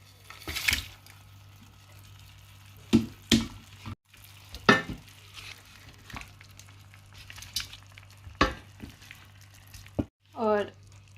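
Chicken frying in a pot with tomatoes, green chillies, garam masala and salt gives a low sizzle under repeated stirring scrapes and clinks, while someone talks intermittently.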